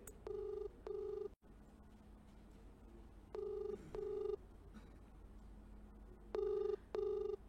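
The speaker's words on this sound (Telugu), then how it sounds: "హేమ ఫోన్ రింగ్ అవుతుంది" A telephone rings on a live call with a repeated electronic double-ring pattern, three pairs of clear, evenly spaced trills over a faint background hum, with no talking.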